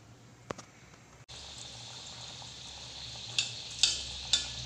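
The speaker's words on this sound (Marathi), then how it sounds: "तेल गरम झालं की आपल्याला डोनट एक एक करून तळून घ्यायचं आहे" Chocolate eggless donuts frying in oil on medium gas, a steady soft hiss of bubbling oil with a few sharper crackles near the end, fairly quiet and with no talk.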